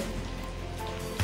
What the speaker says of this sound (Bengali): বৃষ্টি বললে ভুল হবে, সরি, গুড়ি গুড়ি বৃষ্টি